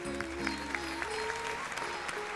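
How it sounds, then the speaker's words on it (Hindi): Audience applause at a talk on the Uttarkand and Sita's exile, a steady soft patter of many hands clapping throughout, fairly distant, with a musical tone sustained underneath. "दीपिका के साहस के लिए जोरदार तालियां बजाइए"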